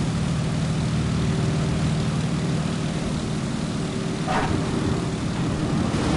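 A Boeing Stearman PT-17 biplane engine in Microsoft Flight Simulator sits at idle, a steady low propeller drone with a constant hum, continuous and fairly loud throughout.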